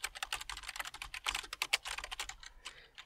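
Rapid typing on a computer keyboard, a close, dense run of key clicks in an uneven rhythm that continues for about three seconds with no voices.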